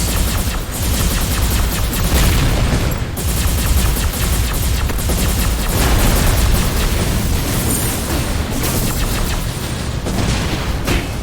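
Continuous heavy explosions and booming blasts in the M.A.S.S. Builder mech game, a dense, loud, unbroken barrage of rumbling bursts and crackling impacts lasting over ten seconds with no voices.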